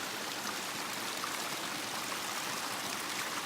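A mountain creek in the Uinta Mountains near Christmas Meadows rushes steadily and close by, a continuous broadband wash of flowing water with no voices.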